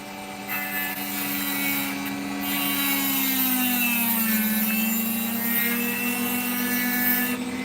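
A cheap desk sander grinds a piece of opal, giving a loud, sustained whine with a rough abrasive edge. Its pitch sags briefly midway as the stone presses harder, then recovers.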